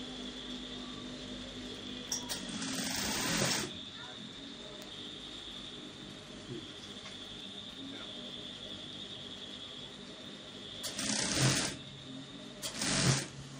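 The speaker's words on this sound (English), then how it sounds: "You're sewing this down to the ending." A sewing machine stitches down the hem of a brocade agbada in a few short runs, each lasting about a second, over a steady background hum with quiet pauses between them.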